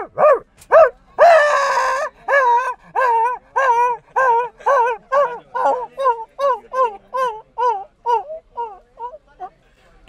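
A voice imitates a dog barking in a rapid series of about twenty yelping barks, close and loud, with a brief whiny howl near the start.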